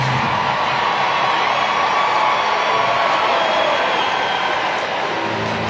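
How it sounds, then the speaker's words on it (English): Full-capacity baseball crowd at Nats Park giving a big ovation during a Savannah Bananas game, a sustained, dense roar of cheering and applause that holds steady throughout. "Big ovation from the full capacity crowd here in Nats Park"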